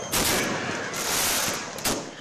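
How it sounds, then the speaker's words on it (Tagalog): Fireworks bursting over a New Year's Eve celebration after an evening mass in Pangasinan, with loud rapid crackling explosions that fill the whole stretch, fading slightly in the middle before another sharp burst near the end. "nagliwanag ang kalangitan dahil sa napakagandang fireworks display"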